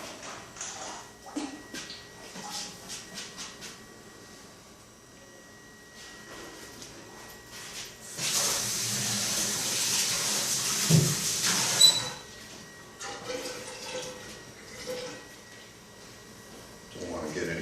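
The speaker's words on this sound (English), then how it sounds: "So squirt bottle action." A squirt bottle sprays during pottery glazing, producing a sustained hissing spray of about four seconds in the middle, surrounded by quieter tapping and handling noises at close range, with occasional speech.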